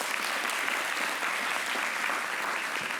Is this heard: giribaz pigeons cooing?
no